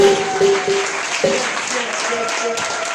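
A church congregation applauds and cheers for Jesus, a steady wash of clapping with raised voices and a few sustained tones, moderately loud and continuous throughout.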